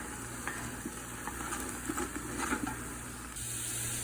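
Brisket warming in a chili pot with a steady, close sizzle and hiss, broken by soft stirring scrapes and small clinks.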